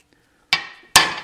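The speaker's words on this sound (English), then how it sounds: "So I need to drive this through to where it is just inside this ledge." A hammer strikes a socket to drive a swing arm bearing sleeve on a CFMOTO Ibex 800T motorcycle, two sharp metallic blows close up, each ringing briefly before fading.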